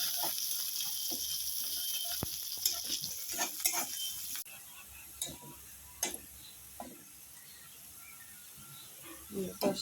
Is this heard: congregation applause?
no